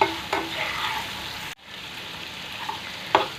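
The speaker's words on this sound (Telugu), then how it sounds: "ఇప్పుడు ఇందులో కొద్దిగా కొత్తిమీర వేసుకొని బాగా కలిపించుకొని స్టవ్ ఆఫ్ చేసుకోవడమే." Chicken liver fry with coriander sizzles in a pan as it is stirred, steady close frying hiss with occasional spatula scrapes and a brief break midway.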